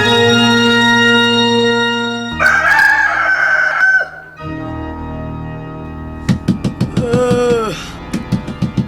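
Loud, close rooster crowing. Long calls give way to a run of choppy clucking cries near the end, with no talk.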